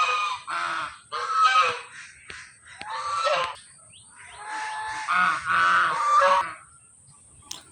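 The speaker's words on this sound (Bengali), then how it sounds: "হাঁস মুরগি পশু পাখির কিচিরমিচির শব্দ" Village geese and ducks honk repeatedly in loud, nasal bursts, several calls overlapping in irregular clusters with short quiet gaps between, close by and with no voices.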